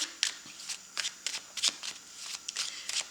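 A deck of tarot cards is shuffled by hand at close range, with a quick series of riffling bursts and soft flicks in an uneven rhythm.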